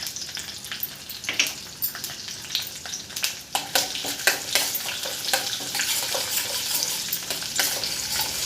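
Garlic cloves frying in hot oil during a tempering with mustard seeds, urad dal, cumin and dried red chillies, a steady loud sizzle with crackling pops and stirring scrapes throughout, no voices.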